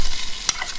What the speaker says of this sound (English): give it a quick stir of that in